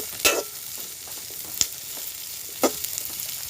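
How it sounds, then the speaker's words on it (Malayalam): Garlic cloves and green chillies fry quietly in a pan under a faint continuous sizzle, broken by three sharp stirring clicks spaced about a second apart, with no voices. "വെളുത്തുള്ളി അല്ലിയും പച്ചമുളകും ഇട്ട് ഇതിനൊന്ന് ചെറുതായിട്ട് ഇതൊക്കെ കൂടെ ഒന്ന് വാടിയാൽ മതി"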